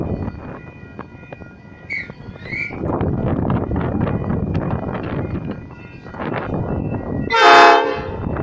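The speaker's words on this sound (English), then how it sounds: "After that ear deafening horn" Sydney train horn sounding at Clarendon station, a loud, bright blast near the end after a stretch of rumbling rail noise and a brief two-note tone earlier, with no talk.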